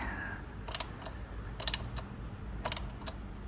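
A tool loosens the chain guard bolts on a 2015 Kawasaki ZX10R, making three short bursts of rapid ratcheting clicks over a low background hum, close up with no talking.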